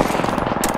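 Rapid enemy gunfire in the video game Apex Legends, a dense run of fast, evenly spaced shots filling a short burst at steady loudness with no voices.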